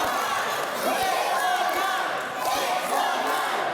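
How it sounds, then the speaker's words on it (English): Wrestling crowd at a Fight Factory show chants and roars for a wrestler's move, a loud rhythmic crowd din with a few sharp thuds, likely from the ring, under a commentator's talk. "listen to the crowd calling for it"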